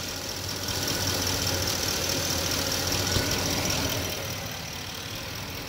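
A 2011 Ford F250 with a 6.2L engine running smoothly after a misfire repair, heard as a steady, close idle with a fairly loud rumble and hiss that eases slightly toward the end.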